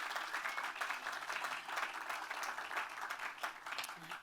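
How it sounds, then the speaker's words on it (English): Applause from a crowd gathered outdoors at a cemetery visitor center groundbreaking, soft and somewhat distant, a continuous patter of clapping at an even level. "yes, please give her a round of applause"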